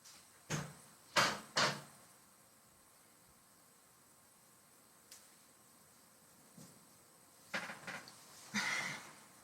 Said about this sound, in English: And let me go close my door.